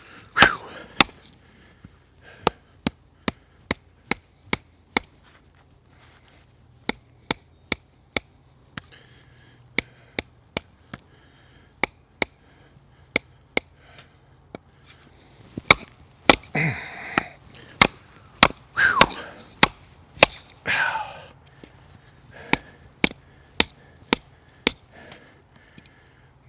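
A knife chops again and again through knotty hardwood, giving sharp, loud, irregular wooden cracks across the whole stretch with no talk. The blows come in bursts, then grow denser and heavier near the middle.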